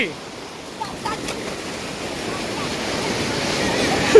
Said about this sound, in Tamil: டேம் ஷட்டர் ஓபன் பண்ணிருக்காங்க பாருங்க, எவ்வளவு தண்ணி வருது பாருங்க தலைவா